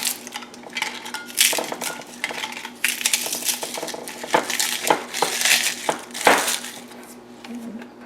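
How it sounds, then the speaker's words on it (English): Crisp, brittle crackling and snapping in irregular bursts, close up, as oven-toasted dried chilies are broken apart by hand, with faint clinks in between. "I'm just going to break them up."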